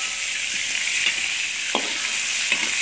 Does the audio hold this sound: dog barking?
no